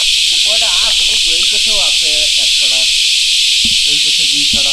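Crickets keep up a steady, loud, high-pitched drone outdoors near trees, continuous beneath a man's close conversation.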